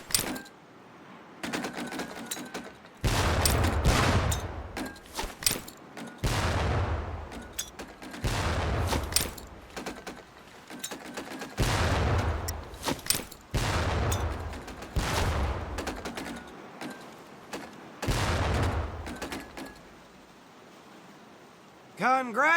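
Training grenades in Medal of Honor: Pacific Assault go off as a series of heavy, muffled thumps at fairly regular intervals. A low rumble trails after each blast, with quieter gaps between them.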